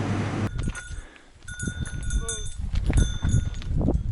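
Greek sheep bleat in short, wavering calls against an outdoor background on a Greek island, with people talking softly nearby.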